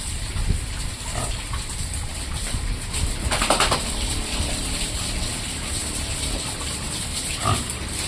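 Mixed-breed pigs grunt on a farm in short, irregular snorts and calls against a steady outdoor background, with a louder burst in the middle.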